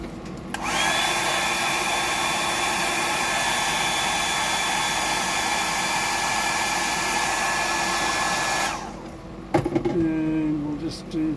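A hair dryer blows steadily and loudly for about eight seconds, drying paint on a Red Claw pattern Bug DD fishing lure, then cuts off, followed by a few light clattering knocks.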